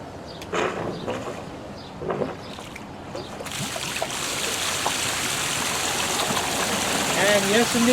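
Steady rushing water pours from a pool's solar drain pipe, starting faintly under a few clunks and then becoming a constant loud gushing flow, alone without talk.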